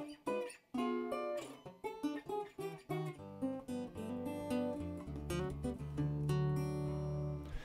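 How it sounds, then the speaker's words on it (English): Bluesy fingerstyle playing on a National Steel resonator guitar with a metal slide: plucked notes and bass runs give way to sliding, sustained chords that ring out, close and clear with no talking. "I'll use it for bluesy finger style stuff like this."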